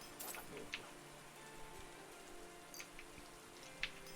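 Rain falls steadily in a blacksmith video game, a soft, even hiss with a few brighter drop-like ticks, all faint and with no voices.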